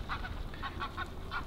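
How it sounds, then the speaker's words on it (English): Geese or ducks on the River Thames honk repeatedly in a loose rhythm of about five calls, fairly close and clear over a low rumble of outdoor background noise. "So hello to the swans and the ducks."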